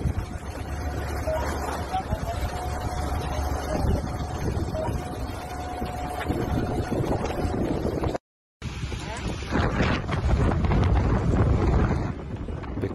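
Strong wind of about 50 km per hour during the Valparaiso forest fires roars as loud, constant broadband buffeting against the microphone, cut by a brief dropout near the end.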